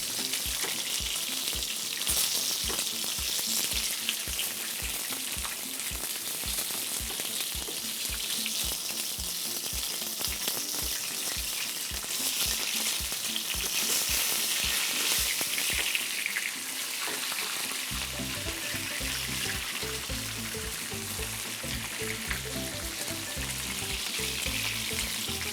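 Garlic frying in oil in a pan, a loud steady sizzle and crackle throughout, with a rhythmic thumping beat underneath and a change in the low background partway through.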